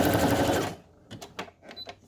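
A sewing machine stitches a fabric journal tag in one short, loud burst, then stops, followed by a few faint clicks and handling taps.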